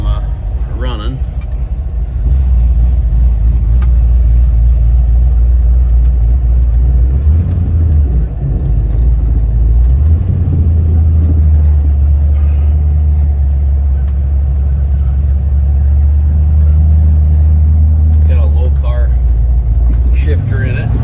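A 1961 Chevrolet Impala bubble top with its 283 V8 idles steadily, a deep continuous low rumble close by, while a person talks over it throughout.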